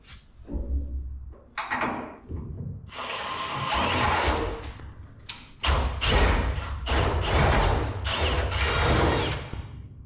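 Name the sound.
drilling holes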